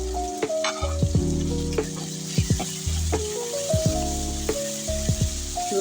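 Onion and red chili fry in a pan with a steady sizzle, punctuated by repeated close stirring scrapes at an irregular pace, all under continuous background music.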